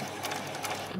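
Sewing machine back stitching across a doll's dress, a brief quiet mechanical whirr with rapid needle ticking, close and alone.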